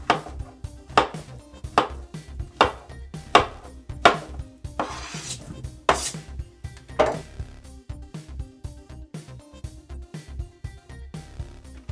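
Knife slicing peeled bananas on a cutting board, a steady series of short, sharp taps against the board, close and clear, with no talking.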